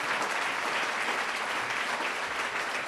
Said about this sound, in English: Give them a round of applause again, would you please?